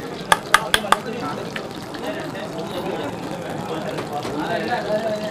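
Masala is stirred and sautéed in a pan, opening with four sharp clinks of a utensil against metal, then a soft continuous sizzle and scraping under a speaking voice.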